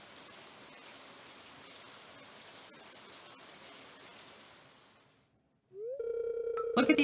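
Rain falls in Stardew Valley as an even, gentle hiss for about five seconds, then cuts out and gives way to bright game menu tones and chimes.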